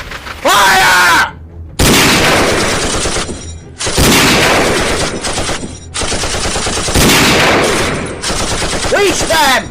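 Loud, dense bursts of machine-gun fire in an animated Thomas fan episode about railway pirates, several long rattling volleys separated by brief gaps, with voices shouting amid the shooting.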